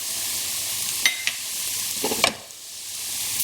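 Spices and vegetables are being stirred in a frying pan for a Bangladeshi vegetable curry, giving a steady soft sizzle with a few sharp utensil scrapes and clinks against the pan.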